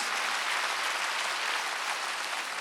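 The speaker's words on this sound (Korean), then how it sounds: "박수하세요." Steady broadband applause from a church congregation at a Wednesday worship service, a continuous even wash of many hands clapping at moderate distance with no voices over it.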